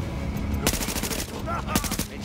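Gunshots in the video game The Division: two separate bursts of rapid automatic fire, each a tight cluster of cracks, set over steady game ambience, with no talking.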